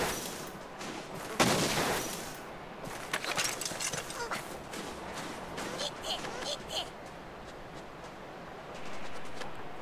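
Light bowgun shots in Monster Hunter 3 Ultimate come as a series of sharp, moderately loud bursts with irregular spacing, one heavier blast early on, and lighter clicks and metallic ticks between them.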